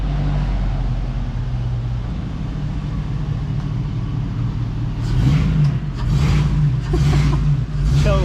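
A lowered custom cholo-style truck on new wheels rumbles at a steady, close idle, then its engine is revved loudly in several surging bursts toward the end.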